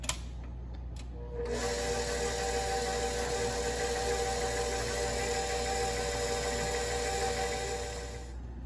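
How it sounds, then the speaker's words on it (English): An electric mixer with a paddle beats cake batter with a cup of nuts. It starts with a faint clatter, rises to a steady, droning motor whir for several seconds, then eases off at the end. "And then we'll let that mix up for about a minute."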